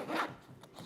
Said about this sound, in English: when you have so many zippers, you can get confused which zipper you're supposed to use